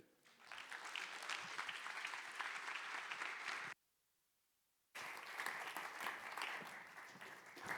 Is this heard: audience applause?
yes